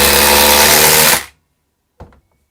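A DeWALT 860 cordless impact driver runs at a loud, dense whine for about a second, then cuts off abruptly, followed by a brief faint clatter.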